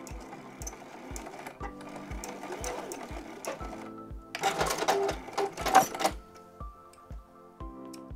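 Sewing machine back stitching a fabric zipper bag, a steady close rhythmic clatter of needle strokes about three per second, pausing briefly before resuming with a rattling burst in the middle.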